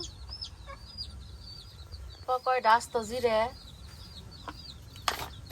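A chicken clucks in a short burst of rapid calls mid-clip, with faint bird chirps and a brief voice in the background around it.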